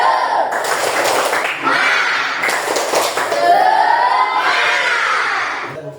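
A room full of schoolchildren standing and doing a clapping cheer together in a loud, energetic chant, with bursts of rhythmic claps and cheering voices close by.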